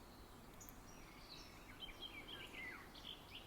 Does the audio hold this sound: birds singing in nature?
yes